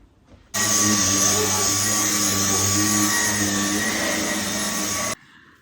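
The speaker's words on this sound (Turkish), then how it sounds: "Ben hemen koltukları süpürüyorum ve düzenleyip dönüyorum." Dyson vacuum cleaner vacuuming sofa cushions, switching on abruptly into a loud, steady high-pitched whine with a drone underneath, running close for about four and a half seconds before cutting off.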